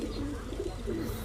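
Pigeons coo softly at a home loft, low rounded murmuring calls repeating in gentle pulses, fairly quiet and close, with no talking.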